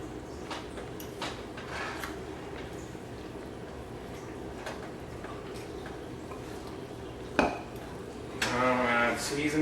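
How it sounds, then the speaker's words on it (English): Pan stirred with a utensil while cooking spicy food, steady clinks and scraping of metal against a pot throughout, a sharp knock near the end, then a louder rattling burst. "Stir it up."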